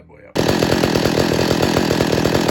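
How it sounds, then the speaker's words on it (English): A Pioneer P60 chainsaw, a Canadian muscle saw, bursts into life and settles into a loud, steady close-up engine roar with rapid rhythmic firing pulses. "Canadian muscle chainsaw. Okay, we're gonna go fire this bad boy"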